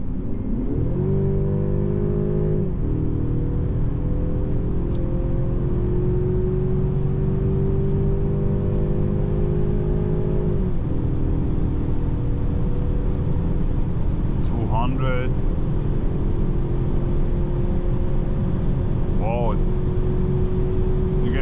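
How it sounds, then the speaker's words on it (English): Steady broadband road and wind roar inside a 2025 Mercedes-Benz CLE 300 coupe, all-wheel drive with 258 horsepower on winter tires, cruising at high speed on the Autobahn, with engine tones stepping through gear changes and brief voice-like sounds near the end. "Quite a lot of wind noises."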